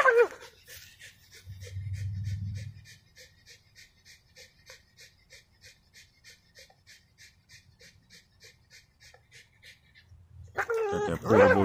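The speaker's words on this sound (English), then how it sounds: "Good dog." A dog pants steadily in quick rhythmic breaths close to the listener, with a brief low whimpering rumble early on and people talking at the start and end.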